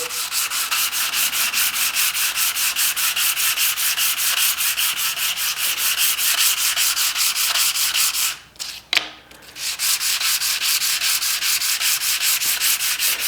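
Rapid rhythmic back-and-forth rasping of sandpaper worked by hand over a knife handle scale, loud and close, pausing briefly midway before resuming.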